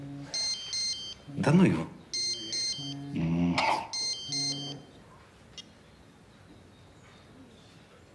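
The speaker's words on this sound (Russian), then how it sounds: "Телефон." A telephone ringtone plays in short repeated electronic bursts over the first five seconds. Brief Russian speech cuts in between the rings, and then the room goes quiet.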